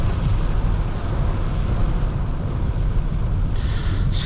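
Thunder rumbles through a night storm of typhoon-heavy rain, heard from inside a new Toyota Prius on the road; a dense, steady low roar fills the whole stretch, with a brief brighter hiss near the end.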